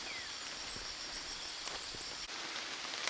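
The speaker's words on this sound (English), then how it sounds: "Unfortunately, the rain set in, but it's not too bad, so we'll push on." Rain falls outdoors on an overcast day near a cave site in Vang Vieng, a soft, constant hiss with scattered faint drips and patters, fairly quiet and with no voices.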